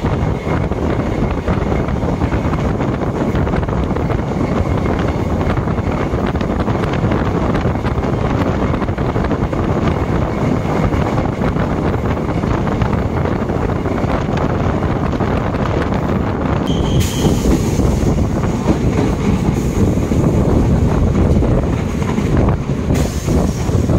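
A DEMU passenger express train on the Karaikudi–Tiruvarur line running at speed, a steady loud rushing roar with wind buffeting throughout, heard from alongside the carriage.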